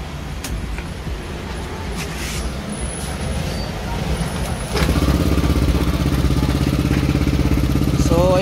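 A car engine runs steadily at a high idle, the hum thickening and growing louder halfway through, with some background noise throughout.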